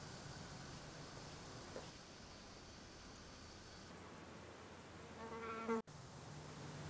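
Flies buzz around a dead mouse, a faint continuous hum among quiet background noise with a brief rise in buzzing before a sharp cut.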